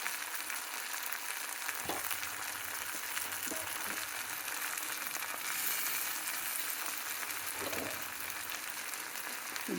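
Onions and tomatoes fry in oil in a pan, a continuous close sizzle with occasional soft clinks of a spoon stirring.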